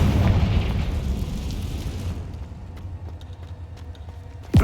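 A fire spell blast from the Hogwarts Legacy video game on Xbox Series X, a loud booming explosion that rumbles and fades over several seconds, with a sharp burst at the very end.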